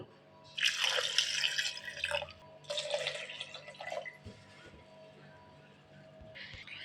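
Water poured from a mug into a mixer jar holding chopped beetroot, two bursts of splashing pour with a short pause between, fairly close, then a brief quieter trickle near the end.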